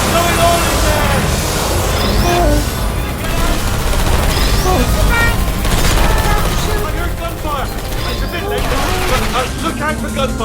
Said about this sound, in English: Look out for gunfire.